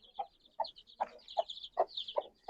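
A chicken clucks repeatedly in short, evenly spaced bursts, nearby, with a faint high chirping running underneath, at a pigeon loft.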